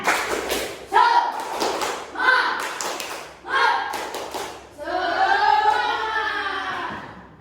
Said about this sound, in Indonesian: Sekarang tepuk semangat.